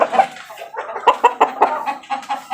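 A freshly caught stag rooster clucks close by, loud and agitated, in a string of short, choppy clucks and squawks with no talking over them.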